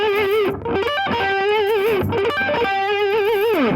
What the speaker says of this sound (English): you do only downstrokes like this, and then that would be an upstroke, and then it's a pull off, and then upstrokes